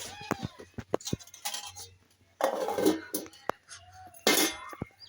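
Metal cookware in a Bengali kitchen while making langcha: a lid lands on a pot with a few bright clinks and clanks, separated by short pauses, with someone talking between the knocks.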